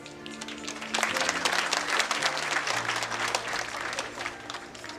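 Audience applause fills a graduation ceremony hall, building from a quieter start into steady, dense clapping from many hands that continues throughout, with a sustained tonal hum underneath.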